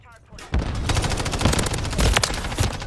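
Rapid automatic gunfire in Call of Duty: Modern Warfare III bursts in after a short quiet lead-in, loud and continuous with dense overlapping shots and sharper cracks near the end.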